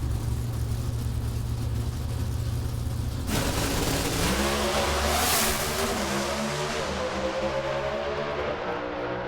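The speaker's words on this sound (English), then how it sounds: "Doesn't take long to rip through that 5-speed gearbox, does it?" A drag racing car accelerates hard through a 5-speed gearbox, a loud roaring engine with a sudden onset and rising pitch across the shifts, with crowd ambience behind it.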